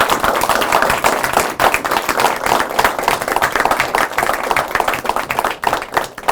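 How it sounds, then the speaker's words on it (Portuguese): Loud, close applause from an audience at a book talk, dense clapping sustained throughout with uneven bursts, no voices on top. "eu peço aqui uma salva de palmas"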